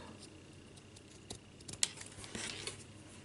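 Scissors snip through wire ribbon while making no-sew lace pockets, a few sparse, close cuts with small crinkles between them, quiet and with no talking.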